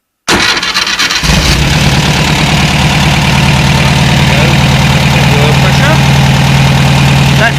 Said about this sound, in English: let's get on for a start-up, shall we?